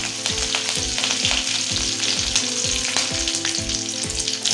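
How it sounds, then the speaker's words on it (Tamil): Mustard seeds and curry leaves sizzle in hot oil in a pan, bright crackling spatter laid over rhythmic scraping stirs, loud and close, with no talking. "நல்லா கடுகு பொரிஞ்சோடனே கொஞ்சமாக கருவேப்பிலை சேர்த்துக்கோங்க."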